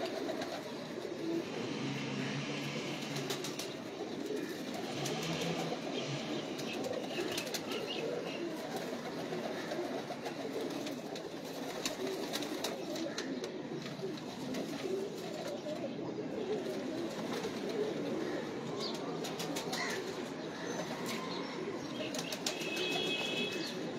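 Rare pigeons in a loft coo in low, continuous murmurs, with bursts of wing flapping and scattered chirps layered over a dense, steady background throughout.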